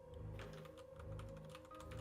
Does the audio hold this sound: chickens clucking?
no